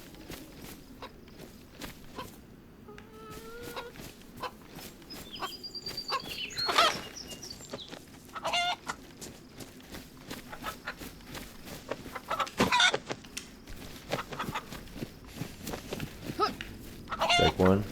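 A chicken clucks in the video game DayZ, with scattered clucks and a few sharp squawks mixed with footsteps on the ground and occasional talk.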